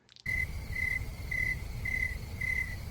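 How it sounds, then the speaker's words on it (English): Crickets chirp in a steady, evenly spaced pattern, five bright pulses over a low background hiss, clear and alone as a sound effect. "Can you hear the crickets?"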